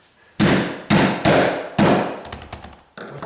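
A scratch awl tacks pieces of wood sub-floor during a condo renovation: four loud, sharp strikes about half a second apart, then a run of lighter taps and one more knock.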